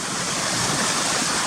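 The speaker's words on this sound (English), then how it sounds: "But the waterfall's still coming down here." Cautley Spout waterfall pours down a fell gully, a steady broadband rush of falling water heard close and continuous with no voices.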